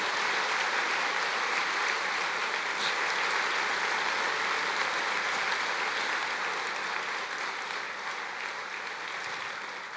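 A church congregation applauds its pastors with sustained, dense clapping that fills the whole stretch at an even level, fading only slightly toward the end, with no voices over it.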